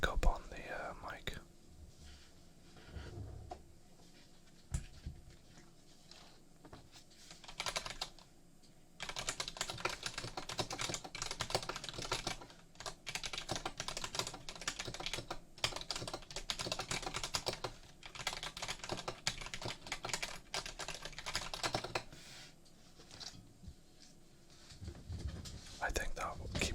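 Typing on a keyboard with Gateron brown switches, bursts of quick soft key clicks recorded close, with quiet whispering between and under the typing.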